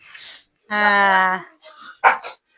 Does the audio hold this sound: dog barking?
yes